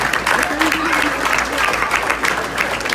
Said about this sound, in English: ladies and gentlemen, a round of applause for our junior class.